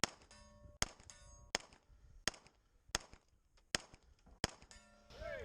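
A series of sharp pistol shots, each followed by a ringing metallic clang as the round strikes a steel target, repeating at a steady pace outdoors at a shooting match, with quiet gaps between and no talking.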